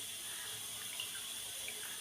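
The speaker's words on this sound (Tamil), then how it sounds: "இதை ஊற வச்சுக்கலாம் தண்ணி ஊற்றி" Water is poured over tamarind in a bowl to soak it, a quiet, continuous splashing trickle lasting a couple of seconds.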